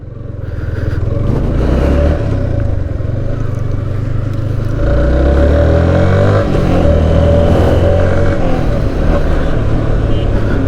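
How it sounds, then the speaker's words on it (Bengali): Yamaha XSR 155 motorcycle engine running steadily while riding, a loud continuous low drone with rumbling engine note and wind noise throughout, no speech. "বাইকটার সাউন্ড একটু লাউডলি"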